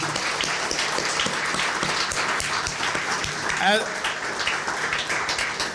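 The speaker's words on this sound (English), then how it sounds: "Another round of applause for both of those gentlemen" Applause from the audience at a cycling-advocacy annual dinner for two honored gentlemen, a steady dense wash of clapping filling the room, with some voices talking underneath.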